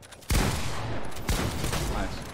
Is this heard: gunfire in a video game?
yes